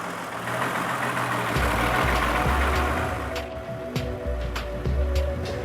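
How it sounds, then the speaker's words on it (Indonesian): Recycled truck diesel engine powering an oil-pulling winch that raises and lowers a steel line, a steady rumbling chug with rhythmic clanks and knocks, loud and near, with no talking. "Dengan mesin diesel inilah, sling baja berongga sepanjang 3 meter yang biasa disebut timbel digerakkan naik turun"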